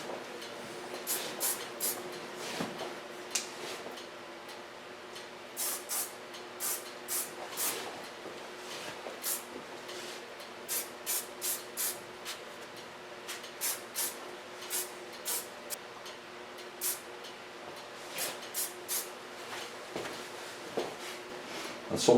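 Goldwell hairspray sprayed in many short hissing bursts, some single and some in quick pairs, spaced irregularly over a quiet background close to the listener.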